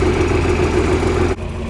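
A John Deere 4320 tractor engine idles steadily at close range after its first start in about two and a half months, a continuous low rumble with a slight dip near the end.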